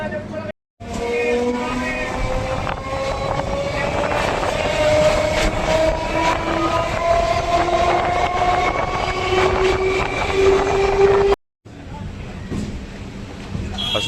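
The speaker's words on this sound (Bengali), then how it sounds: "আস্তে আস্তে আমাদের ট্রেন প্রবেশ করছে" A Sealdah–Diamond Harbour local train rumbles along steadily into Diamond Harbour station with rising whine and rattling wheels, loud and close, cutting out abruptly near the end and then resuming.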